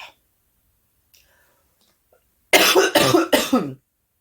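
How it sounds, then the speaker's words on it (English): A short burst of three harsh coughs in quick succession, close and fairly loud, after a stretch of near silence with a faint breathy sound at the start. "coughing, not fun"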